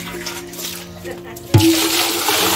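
Water is released and drained from a large jar, a sudden loud gushing rush that starts partway through and continues steadily after a stretch of quieter background and voices.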